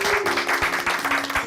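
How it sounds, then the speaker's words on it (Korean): Studio audience applause on a Korean television talk show, a dense, steady patter of many hands close by with a faint sustained musical tone underneath, lasting only a moment. "박수 한번 칠까요?"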